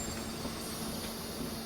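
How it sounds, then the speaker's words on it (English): Train brakes releasing in Train Simulator, heard as a steady airy hiss with a faint constant tone and low rumble, continuous and even throughout without talk. "I'm going to go ahead and release some brakes"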